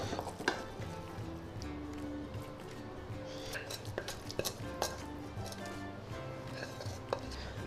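Spoon scrapes and light clinks sound as cooled motichoor ladoo mixture is moved from a pan onto a plate, soft, irregular kitchen taps close by.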